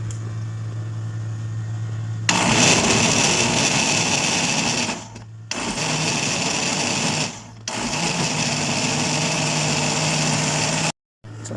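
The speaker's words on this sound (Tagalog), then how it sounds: "So, i-blend lang natin siya." An electric blender whirs through eggs mixed with lemon juice, a loud close steady motor drone that starts abruptly, briefly dips twice as if pulsed, then cuts out before the end.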